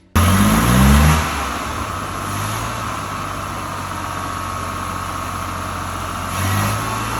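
A Rover SD1 2600S engine cranks and catches with a loud rev, then settles into a steady, fairly loud idle before picking up again near the end.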